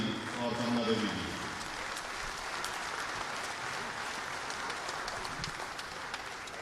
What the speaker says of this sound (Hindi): ये तालियां लगातार बजती रहें जब तक रोहित और उनका परिवार यहां पहुंचे